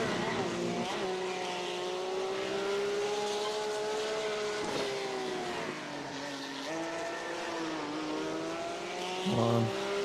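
A car driven hard, its engine revving and wailing in sustained, shifting tones with a squeal near the end, loud and close, while a voice speaks over it.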